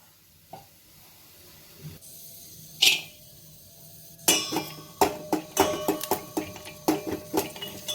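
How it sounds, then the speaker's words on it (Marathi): Dry fruits including almonds frying in a pan: quiet at first with a few scattered taps, then a steady run of sharp clinks and scrapes from a spoon stirring against the metal over a faint sizzle. "मी थोडेसे ड्रायफ्रुट्स आहेत तर ते थोडेसे गरम करून घेणार आहे याच्यामध्ये तळून घेणार आहे"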